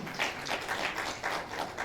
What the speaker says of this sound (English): Please, a round of applause for him also